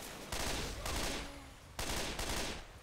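Rapid bursts of video game gunfire from Left 4 Dead 2, several loud broadband volleys in quick succession with brief gaps, heard up close with no talk over them.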